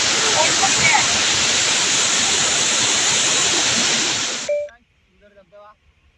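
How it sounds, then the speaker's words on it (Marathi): A small waterfall in the Konkan roars steadily with broadband rushing water for about four and a half seconds, then cuts off abruptly, leaving faint quiet sounds. "कोकणात धबधब्यातील छोटासा धबधबा आहे"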